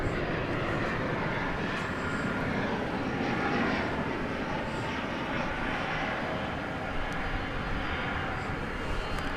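An MD jet airliner moves at DFW Airport at night, its steady, broadband engine roar filling the scene at a constant loudness from some distance, with no voices over it.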